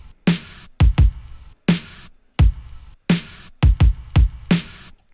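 Early 90s East Coast boom-bap drum beat programmed in Ableton Live: punchy kicks and snappy snares in a loping, swung pattern, dry and loud with short gaps between hits and no talking.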